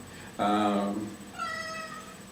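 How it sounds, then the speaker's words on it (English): A pet cat meows twice indoors, a long loud drawn-out call followed by a shorter, fainter second meow, close to the listener with a steady background hum. "my cat"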